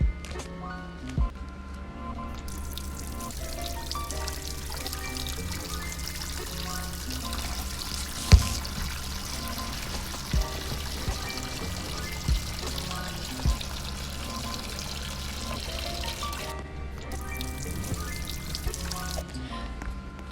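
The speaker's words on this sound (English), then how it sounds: "let me turn the faucet on" Water streams from a shower faucet, a continuous splashing pour with occasional clanks and knocks, heard over a background of music.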